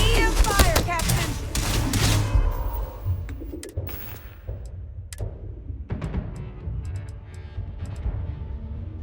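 Rapid bursts of EM weapon fire crackle through a chaotic space battle in Starfield, sharp transients stacking up dense and loud at first, then thinning into scattered blasts beneath shouting voices.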